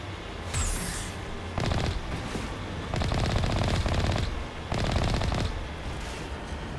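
Automatic turrets in the video game Mass Effect fire rapid rattling bursts, three long volleys separated by short pauses, loud and close over a constant game ambience.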